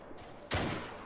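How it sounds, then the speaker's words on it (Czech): A single loud rifle blast while hunting pronghorns with a sporter rifle in The Hunter: Call of the Wild, a sudden close crack that rolls into a lingering echoing tail. "myslím si, že tak dva jsem trefil, ta třetí rána už ta už se tak jako svezla"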